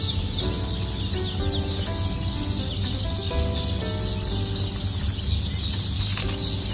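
Dense chorus of high peeping calls from many Kuttanad Chara Chemballi ducklings in a hatchery on hatching day, continuous and overlapping over a steady mechanical hum.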